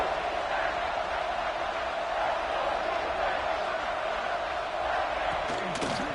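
A large football stadium crowd at a Georgia State vs Clemson game roars steadily on third down, a broad, sustained wash of cheering that stays loud and even throughout.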